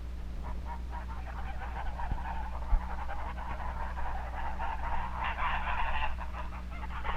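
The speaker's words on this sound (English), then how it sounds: "This is the father goose, or gander. And this is Mother Goose." A gander and a mother goose on a farm make soft, repeated honking and breathy calls close by, over a steady low hum, with a couple of faint knocks.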